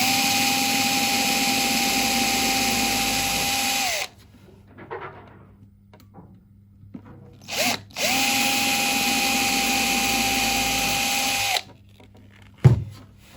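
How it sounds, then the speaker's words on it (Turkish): Two long bursts of a high-pitched power drill with a thin bit whining steadily while drilling holes in a bağlama's nut, with quiet clicks and handling noises between them. "eşiğimizin deliklerini deldik"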